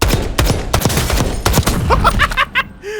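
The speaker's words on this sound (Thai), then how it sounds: "ยิงตั้งห้านัดเลยเหรอ" Gunfire in the Call of Duty video game: a rapid series of loud, sharp shots in quick succession, followed by short metallic clinks and a brief ringing tail.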